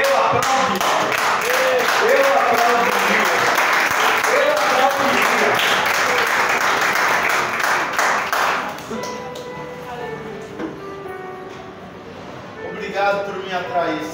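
Applause from a church congregation swells loudly for several seconds, then thins into scattered claps under a voice and background music.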